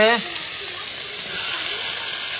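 Pork meat dropped into a hot wok (kerahi) with turmeric, giving a steady broad sizzle and hiss after a brief voice at the start, continuing evenly to the end.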